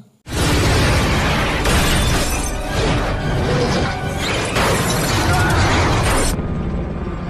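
A loud, sustained bazooka explosion roar in a film, with crashing debris rumbling for several seconds, then cutting off abruptly.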